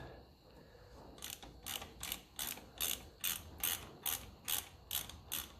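Socket wrench ratcheting on the steering box of a 1954 Ferguson TEF diesel tractor, about ten evenly spaced bright clicking bursts after a quiet start, close but fairly soft, no talking.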